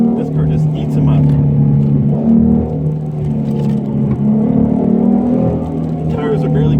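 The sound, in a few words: modified 2016 3.7 S550 Mustang driving through tight corners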